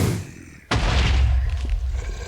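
A sudden loud boom hits after a quieter stretch, followed by a sustained low rumble and crackling debris, like a nearby explosion in a Minecraft mob battle.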